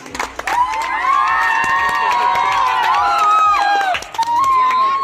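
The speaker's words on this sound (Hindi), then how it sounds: "इनके लिए एक बार फिर से तालियां।" Audience at a children's general knowledge quiz competition cheering and clapping loudly for a child's correct answer, a dense crowd roar with shouts and whoops running throughout, briefly dipping near the end.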